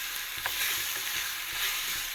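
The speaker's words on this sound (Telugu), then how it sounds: "కాసేపు ఇలా ఒక్క 1 మినిట్ బాగా కలుపుకుందాం, పోపు అంతా బాగా కలిసేలాగా." Popu, a tempering of spices, is stirred in a hot pan with soft scraping and faint crackling sizzle. The sound is quiet and close, with no voices.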